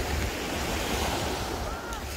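Sea waves and steady wind on a public beach at Giruliai, a constant broadband wash of surf with wind buffeting the microphone throughout.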